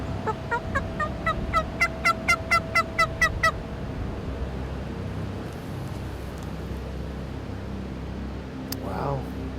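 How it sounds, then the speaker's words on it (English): A flock of wild turkeys in spring hardwoods, four toms and two hens, with a rapid series of about a dozen sharp gobble-like calls in the first few seconds, then quieter woodland ambience and a faint later call. "Turkeys. Oh, whole flock of them."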